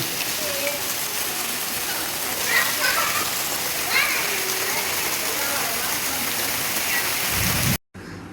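Rain falls in a steady, loud, broadband hiss close by, with a few brief brighter accents, before the sound abruptly drops out near the end.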